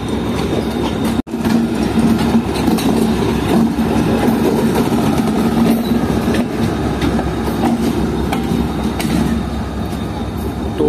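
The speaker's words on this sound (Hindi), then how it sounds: "ZCU30 आ रहा है अल्लामा इकबाल के लीड पर लगने के लिए" Pakistani ZCU30 diesel locomotive 6307 of Lahore shed rolling in to lead the Allama Iqbal Express, a loud steady engine rumble with rail noise and faint clickety-clack heard close up, plus one brief sharp dropout early on.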